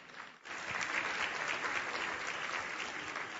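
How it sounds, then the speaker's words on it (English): Conference audience at a Latino congressional luncheon breaks into applause after a brief quiet moment, then keeps up a steady, full round of clapping to the end. "How about a round of applause for you?"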